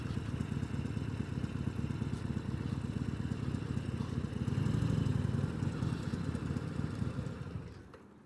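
A Harley-Davidson Sportster motorcycle engine runs nearby with a steady, throbbing low rumble that swells slightly midway before easing off at the end.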